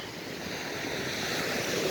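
Sea waves wash at Wa Ko beach in Prachuap, a steady broadband surf hiss mixed with wind noise on the microphone, no voices.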